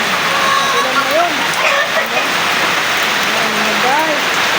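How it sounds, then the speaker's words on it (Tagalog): A steady, loud downpour of heavy rain hisses without pause while someone speaks over it. "Malakas po talaga ulan ngayon."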